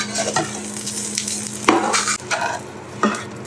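French toast flipped in an oiled pan sizzles loudly up close, with a few sharp spatula scrapes and clatters breaking through the steady frying hiss.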